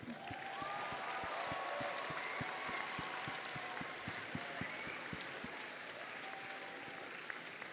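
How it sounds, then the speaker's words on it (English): An audience at a school house music competition claps for the performers in sustained applause. It sounds as an even, fairly distant patter with a few sharper claps standing out, and no one speaks over it. "give a huge round of applause to all of our performers tonight"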